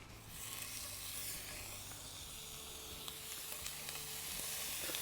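Chicken Marylands sizzle skin side down in a hot pan, a steady, faint crackling fry with no talk over it.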